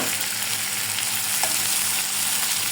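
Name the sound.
food frying in a pan while cooking hilsa curry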